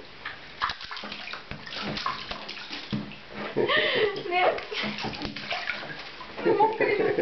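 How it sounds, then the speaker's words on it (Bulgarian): A small child splashes and sloshes water out of a bathtub in a home bathroom, with irregular wet splashes and slaps throughout, mixed with an adult talking and child vocal sounds. "Стига изфърга водата и гледа къде отива."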